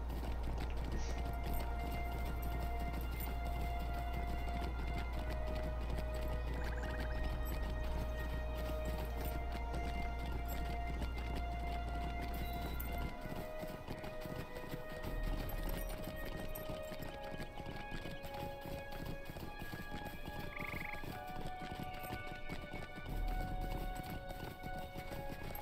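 Steady clip-clop of horse hooves while riding in the video game LOTRO, a continuous even trotting rhythm under layered ambient scenery sound and music tones, with no talking.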